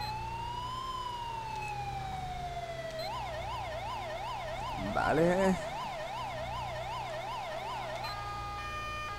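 A police car siren in the video game GTA V with the LSPDFR mod wails, then switches to a rapid yelp pattern, loud and steady throughout, with a brief spoken word and a short burst of other game noise partway through.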